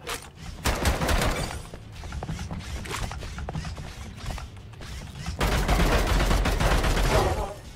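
Dense bursts of gunfire from the Bunker Punks video game, rapid volleys with mechanical clatter running throughout and swelling louder near the end.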